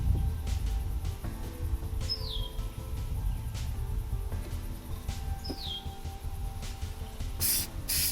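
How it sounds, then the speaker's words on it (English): Glue accelerator is sprayed onto furniture filler in one short, sharp hiss near the end. Faint bird chirps and a low background rumble come before it. "And then I'm going to spray the accelerator."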